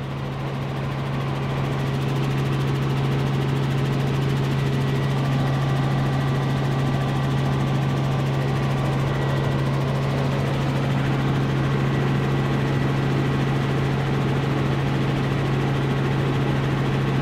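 A helicopter flying from Saga Airport toward Maizuru Park in Fukuoka, heard from on board as a steady, loud, droning rotor and engine hum with a strong low throb that never lets up.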